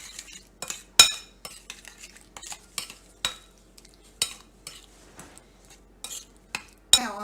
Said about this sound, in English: And I'm gonna just mix that all in right now.